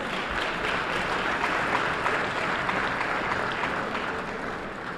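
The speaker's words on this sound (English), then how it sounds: "Round of applause for Dr. Turner." An audience at a Harlem debate gives a round of applause for Dr. Turner, a steady, even wash of many people clapping together for the full few seconds, moderately loud with no voices over it.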